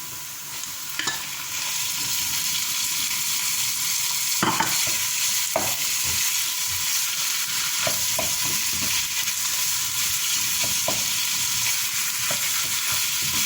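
Minced beef browning in a pan with onion, a steady loud sizzle with scraping stirs and occasional clicks of a utensil throughout, no voices.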